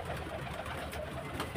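Soft, low pigeon coos sit under a steady, busy background hum, a faint continuous murmur of birds close by.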